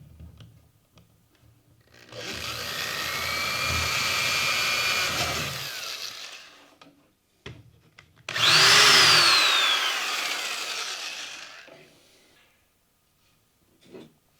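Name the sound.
drill drilling a 1/8-inch hole in a pipe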